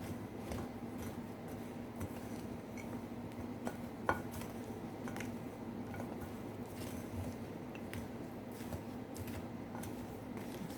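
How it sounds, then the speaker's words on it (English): Eggless chocolate chip cookie dough is stirred together in a bowl, producing faint, steady scraping with scattered soft clinks of utensil against the bowl and one sharper knock, quiet and close throughout. "So this everything here is just going to be mixed together. Let's mix it up."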